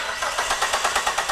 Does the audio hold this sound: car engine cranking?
yes